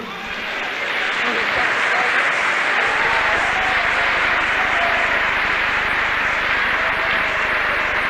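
Dense, sustained applause from a church congregation, building in the first second and holding steady and loud throughout with no break.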